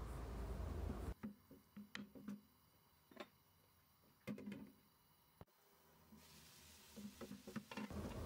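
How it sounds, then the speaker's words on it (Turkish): Minced meat frying with a little added water in a pan while filling is prepared, a soft steady sizzle broken by repeated scraping and stirring taps of a utensil, close by with no talk. "50 gram kıymam var. Biraz su ilavesi yaparak kavuruyorum."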